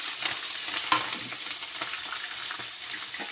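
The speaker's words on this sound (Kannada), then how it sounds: "ಈಗ ಉಳ್ಳಾಗಡ್ಡೆ ಮತ್ತು ಮೆಣಸಿನ್ಕಾಯಿ ಹಾಕ್ತೀನಿ ನೋಡಿ." Onions and green chilies fry in peanut oil in a kadai for egg curry, giving a bright, even sizzle with soft stirring scrapes and one sharper knock, close and unaccompanied by voices.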